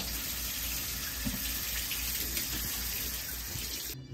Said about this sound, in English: rinse these black beans real well